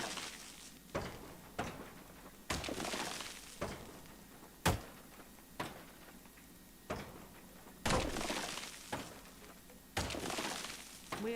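Glass shatters and breaks repeatedly in the Deconstruction Simulator video game, about a dozen sharp crashes spaced a second or so apart, each bright burst fading before the next, with no voices over them.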